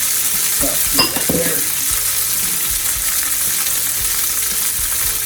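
Frozen shredded hash browns sizzle in a frying pan with a loud, continuous hiss, one brief clatter of a utensil near the start, then a steady crackle throughout.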